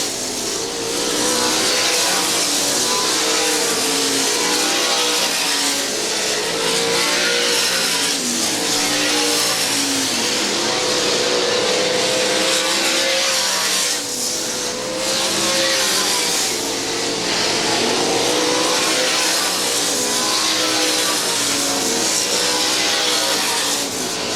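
OCRS sprint cars race around the Monett Speedway dirt track, loud engines droning and rising and falling continuously as the pack roars past close by, with no break in the sound.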